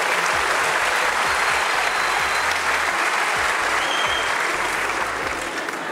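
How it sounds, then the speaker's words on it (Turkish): Steady, dense audience applause fills the whole stretch at a loud level on the stage of the Yetenek Sizsiniz Türkiye talent show, greeting a contestant, with no voices standing out. "İlk defa bir yarışmacının yaşı alkış alıyor ya."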